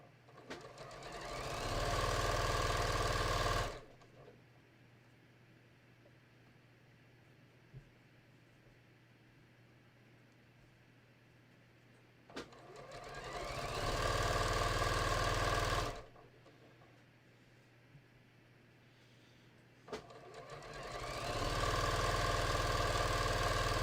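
A sewing machine stitches the hem of a raglan sleeve in three close, steady runs of rapid whirring, each lasting a few seconds, with quiet pauses between them.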